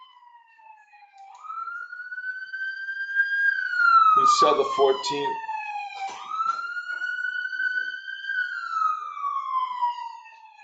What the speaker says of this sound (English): We don't usually have sirens in my neighborhood. It's an ambulance out there.